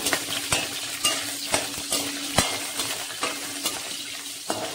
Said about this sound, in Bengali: এই তেলেই দিয়ে দেবো আমি ডালের বড়ি দিয়ে ভালো করে একটু ভেজে নেব